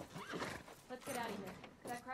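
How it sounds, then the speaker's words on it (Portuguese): A horse in The Last of Us Part II neighs with a few rising whinnies alongside hoof clops, loud and close, under quiet game ambience. "Um cavalo só agora, né?"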